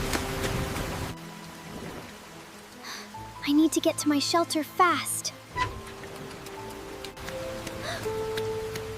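Heavy rain falls steadily during a nighttime storm, a constant hiss under a man's speech and other voices.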